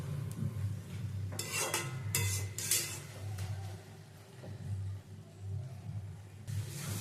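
Palash flower chorchori being stirred in a pan, with intermittent scraping and clinking bursts of a spatula against metal over a steady low hum, moderately loud and close.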